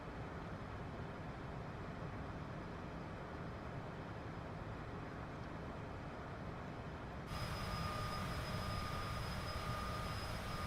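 Steady droning engine noise of an airplane flying over the Indian countryside in Tailstrike Air World Tour, a continuous broadband roar at a constant level that turns brighter and slightly louder toward the end.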